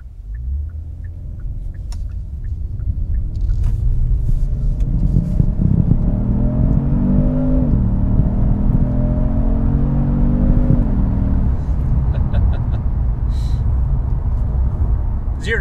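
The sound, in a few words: twin-turbo V6 car accelerating hard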